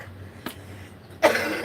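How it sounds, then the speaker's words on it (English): A man coughs twice at close range, one short hack and then a heavier, longer cough, with no talking over it. "Here I go, start coughing again."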